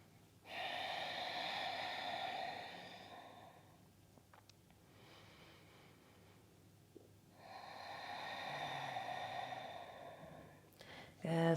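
Two slow, breathy exhales through the nose are taken during a yoga twist. Each is soft and airy and lasts a few seconds, with a quiet pause between them, and a brief sound comes at the end.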